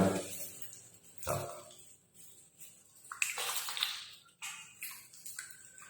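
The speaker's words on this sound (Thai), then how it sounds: "แล้วเราก็มาล้างที่ใบหน้าเรา ล้างที่ใบหน้าเรานี่เป็นสูตรแอป สูตรใบโบบกับแอปเปิลเขียวนะครับ" Running water and splashing as a face is washed with Lenez green apple soap, in short bursts with quiet gaps between them, fairly close and with no speech.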